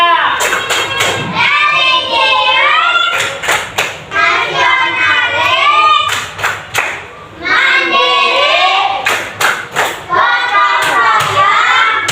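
A grade 3 class of children doing the rhythmic PPK clapping chant during a maths lesson: close, loud chanted voices punctuated by grouped bursts of sharp, in-time hand claps, repeating in several rounds.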